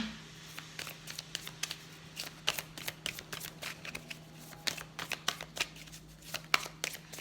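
Oracle cards being shuffled for a tarot-style reading, a run of quick papery riffles and flicks in irregular bursts over a faint steady hum, with no talk.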